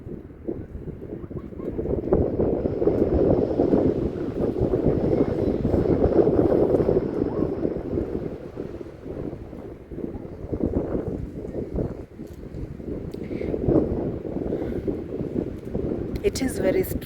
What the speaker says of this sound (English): suddenly the wind is there. And it is strong.